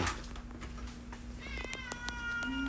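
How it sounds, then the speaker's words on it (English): A hungry house cat meows several times, close and clear, with a faint steady hum and a few brief knocks underneath and no talk. "Cat hungry, I gotta give the cat something"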